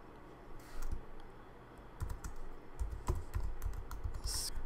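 Code being typed on a computer keyboard, a steady stream of soft, close key clicks with a few louder taps, heard alone.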